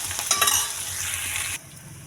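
Ginger-garlic paste sizzles steadily in hot oil for a jackfruit curry, a loud continuous fry with a few stirring scrapes early on, dropping to a softer sizzle near the end.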